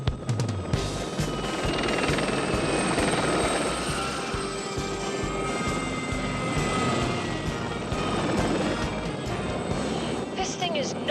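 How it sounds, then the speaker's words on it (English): A Blue Thunder helicopter flying, continuous rotor and engine drone with steady whine, heard from inside with voices talking over it. "Blue Thunder is somewhere between a helicopter and a guided missile."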